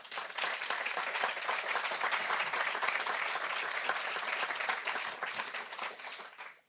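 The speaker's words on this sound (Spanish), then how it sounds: "se merece un gran fuerte aplauso" Steady, dense applause from a forum audience at a truffle event in Teruel, sustained for several seconds and tapering off at the end, with no talk over it.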